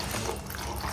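Water pours into a muthiya dough mixture in a village kitchen, a brief, steady close gurgle of liquid filling with no talk.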